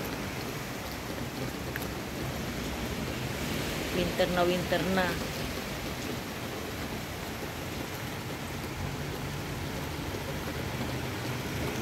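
Heavy rain pours steadily as a soft, dense hiss of falling water, with a brief burst of louder spattering midway.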